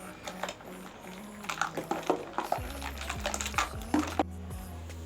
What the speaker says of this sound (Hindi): ये डालने के बाद शरबत को अच्छी तरह से मिक्स कर लेंगे।